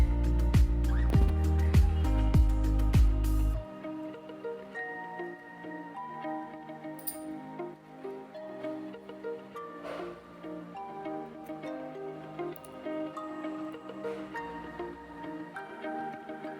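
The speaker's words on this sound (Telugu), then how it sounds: "రోల్లో పండు మిరపకాయలు వేసి కొద్దిగా నలిగేంత వరకు దంచుకోవాలి" Ripe red chillies are pounded in a stone mortar, with a quick series of heavy, close thuds for a few seconds, followed by quieter, scattered ticks and soft knocks.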